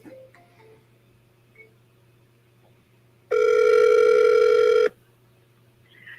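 After a quiet stretch with faint clicks, a single loud ringback tone sounds on an outgoing phone call, one steady buzzing ring of about a second and a half, then drops back to near silence.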